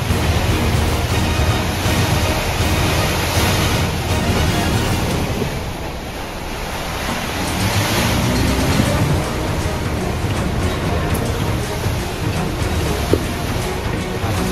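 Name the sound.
typhoon wind swirling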